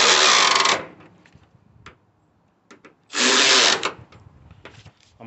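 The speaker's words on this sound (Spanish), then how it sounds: "Vamos a dar un ajuste con la matraca." Two loud bursts of a ratchet tightening bolts on a front shock absorber of a 2011 Nissan Sentra, each roughly a second long, separated by softer clicks and handling noises nearby.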